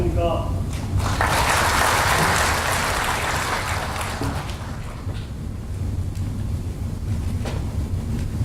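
An audience applauds as a speaker is called to the stage at a Yongin social welfare policy event, a broad wash of clapping that swells in the first few seconds, then fades under a steady low hum and voices.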